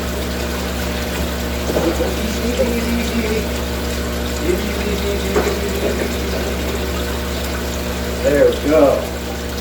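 Water being pumped and drained out of a large fish tank holding an arowana and other big fish, a steady hum with gurgling and splashing bursts near the end, while a person speaks briefly.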